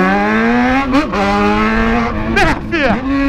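Loud motorcycle with its original exhaust removed, revving hard close by, a strong steady engine roar with sharp blips of the throttle that rise and fall in pitch.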